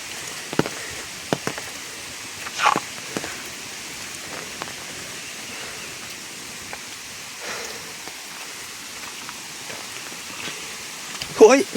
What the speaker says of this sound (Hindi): बारिश हो रही ना ऊपर